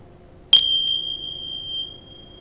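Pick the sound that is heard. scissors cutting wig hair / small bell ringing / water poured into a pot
small bell ringing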